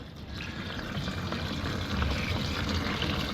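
Dirty, water-contaminated gasoline pours from a Ski-Doo Safari snowmobile fuel tank in a steady, continuous splashing stream, close and fairly loud, with no talking.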